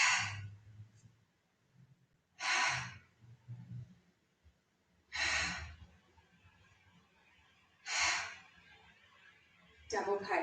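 Deep forceful breaths during a Pilates exercise, four or five loud sharp exhalations spaced about every two and a half seconds, close and breathy, with quieter murmured talk between them.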